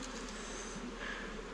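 Honey bees hum steadily around an opened hive on Mafate, a continuous close buzz with no talking over it.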